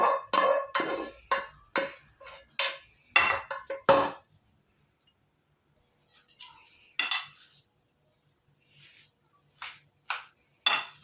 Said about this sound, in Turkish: Şimdi pirinci üzerine ekleyip bunu da iyice karıştıracağım.